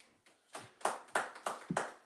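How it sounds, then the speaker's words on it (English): A congregation claps during a Sabbath service: a few uneven, moderately close claps building into a loose rhythmic beat, with no talking over it. "Right, go ahead, clap it up."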